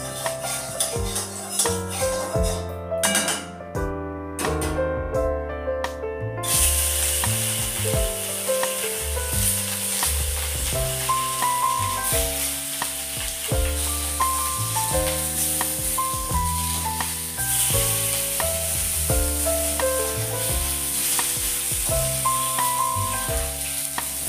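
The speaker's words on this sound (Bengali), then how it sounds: "এবার আমি কড়াইতে তেল দিয়ে দিয়েছি। এবার মাছটা ভেজে নেব" Fish fries in oil in a wok, a steady crackling sizzle running throughout beneath prominent background music.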